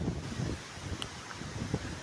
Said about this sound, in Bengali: বাতাস বচ্ছে